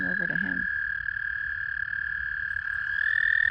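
A frog calls in a spring mating chorus with one steady, loud high trill held for several seconds. Brief croaking pulses come at the start, and faint calls from other frogs sit in the background.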